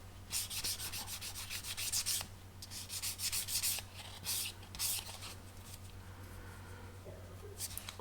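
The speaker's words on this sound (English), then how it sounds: "And then I'm just going to sand the top and smooth it a little bit." Sandpaper rubs over the top of a thin blade on a Vanguard Models 33-foot royal barge model kit, a close, quiet scratchy back-and-forth in short repeated strokes with brief pauses.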